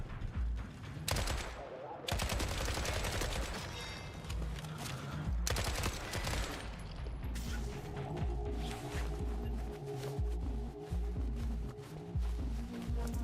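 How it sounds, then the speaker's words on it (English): Shotgun fire in The Forever Winter combat game comes in heavy, booming blasts and rapid bursts, loud and close, separated by brief gaps and layered with clattering mechanical noise. "Oh, fucking chill with these shotguns, guys."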